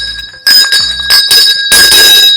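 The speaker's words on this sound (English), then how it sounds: "as the school bell rings for the first period" A school bell rings loudly in several bursts, the electric ring repeating with short gaps before sounding continuously at the end, with no voices.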